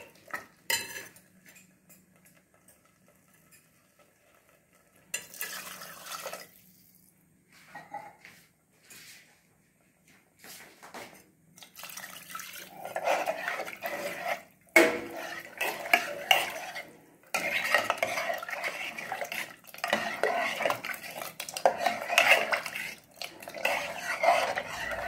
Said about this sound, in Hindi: देखिए हमने अपना पानी डाल दिया